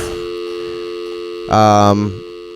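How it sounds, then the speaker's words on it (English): An old telephone receiver is hung up with a short clunk, followed by a loud buzzing dial or busy tone that cuts in briefly over a steady electrical hum. "Hanging up the old phone."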